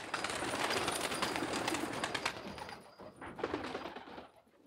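A flock of around fifty pigeons coos and rustles nearby, with soft overlapping calls forming a steady, fairly quiet chorus that briefly dips and swells again.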